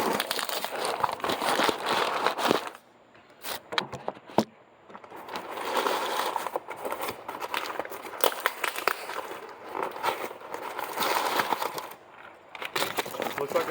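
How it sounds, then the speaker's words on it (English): A cardboard box holding a micron filter for a DIY paint booth gets torn open by hand, with close crinkling, tearing and rustling in bursts and a few brief pauses. "so I get the box open real quick"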